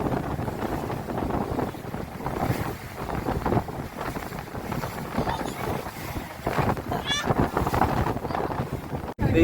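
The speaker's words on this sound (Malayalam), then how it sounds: "ഇവിടെ ഒരു ബോട്ട് വന്നിട്ടുണ്ട്" A boat moves on open water at dusk, its steady engine drone and water wash buried under heavy gusting wind buffeting the microphone, with a faint voice now and then.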